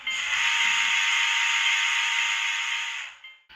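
A single sustained, bright model train locomotive whistle blows steadily for about three seconds, then cuts off.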